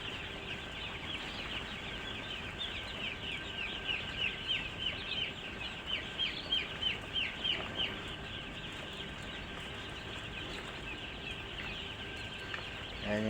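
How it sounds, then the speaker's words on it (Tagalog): Chicks on a farm, kept indoors in a house, peep in a rapid run of high chirps over a constant hiss of background noise, fairly close and moderately loud. "Yan yung sisiw namin guys."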